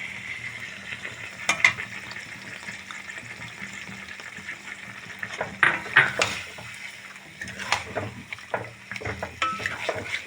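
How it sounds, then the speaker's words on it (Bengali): Pointed gourd sautés in a pan with cashew paste over a normal flame, giving a soft, low sizzle with scraping stirs and occasional louder clinks of the spatula against the pan. "আমি নর্মাল আঁচে কষিয়ে নেব"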